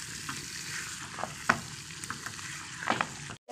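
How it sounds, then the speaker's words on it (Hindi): Potatoes and chicken fry in a pan with a steady broad sizzle, broken by a few sharp clinks of stirring at close range, then a sudden drop to near silence right at the end. "आलू और चिकन को अब अच्छे से भूनूंगी।"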